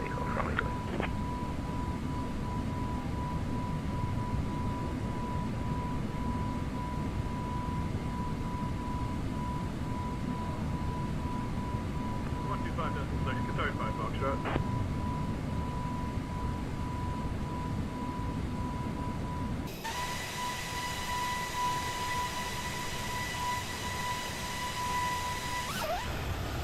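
Airbus A321neo jet taking off in the X-Plane 12 flight simulator: a steady, loud engine roar with a constant whine runs throughout, shifting to a brighter, harsher tone near the end, with no voices.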